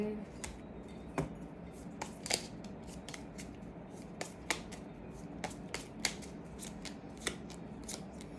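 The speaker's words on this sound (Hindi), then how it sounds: "पहले कार्ड्स डाल देंगे फिर बात करेंगे।" Tarot cards dealt and laid out one by one for a Libra reading, giving a run of crisp snaps and soft shuffling clicks at an uneven pace, close and fairly quiet, with a faint voice in the background.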